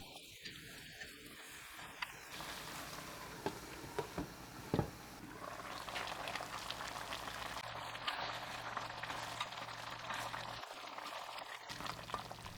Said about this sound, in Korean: 물 150ml 넣고 섞어 센 불로 끓여주세요.